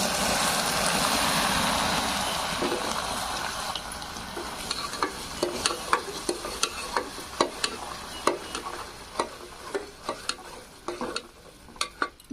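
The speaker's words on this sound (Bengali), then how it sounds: "গরম জল এতে অ্যাড করব কিন্তু আস্তে আস্তে করবে" Hot water poured gradually into pithe batter in a saucepan on the stove, first a steady hissing sizzle, then repeated sharp scraping clicks of a spoon stirring against the pan in an uneven rhythm.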